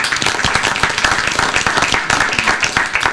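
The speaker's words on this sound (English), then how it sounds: "We can give him a round of applause." A round of applause from an audience at a county government event, dense steady clapping from many hands, loud and close throughout.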